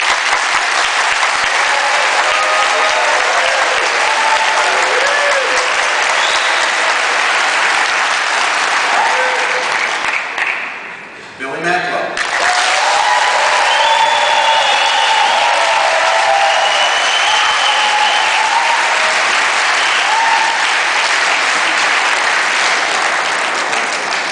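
Audience applause at a debate during a real estate conference at Columbia University, a long, loud, dense ovation that dips briefly near the middle before swelling back up and carrying on steadily with a few cheers mixed in.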